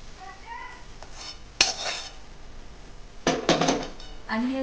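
Spiced puffed rice (bhadang) is stirred in a pan, making a few bursts of dry rustling and scraping between stretches of quiet, while a voice speaks over parts of it.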